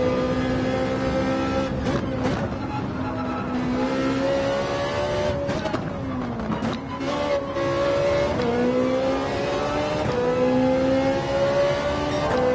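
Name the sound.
Honda NSX race car engine, Gran Turismo 7 video game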